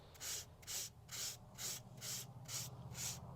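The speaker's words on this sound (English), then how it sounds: "I'm going to sand over it" Sandpaper rubbed back and forth over paper laid on corrugated cardboard, a close, even raspy scratching in about eight regular strokes with no talking.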